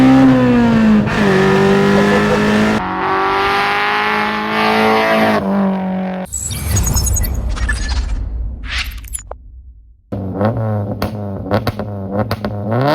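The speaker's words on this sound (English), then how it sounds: "This is a Citroen AX with the Honda B16 engine that revs to the moon." A Citroen AX sleeper build fitted with a Honda B16 engine revs hard, rising to screaming high-rpm pulls, dropping briefly, then climbing again in loud, close bursts.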